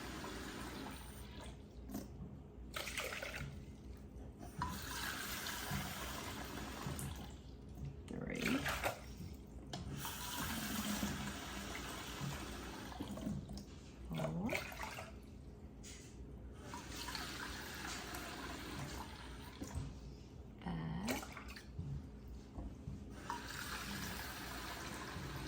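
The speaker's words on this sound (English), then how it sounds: "Y'all see how Mama is turning off the water each time?" Tap water from a household well supply runs steadily at a kitchen sink during pickle making, switched off and on repeatedly, with short gaps between bursts of flow.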